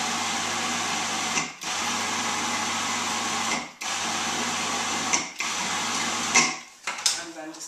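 A food processor pulses a sprouted aduki bean burger mixture with gram flour. The motor whirrs in four loud bursts separated by brief pauses, with clattering at the end.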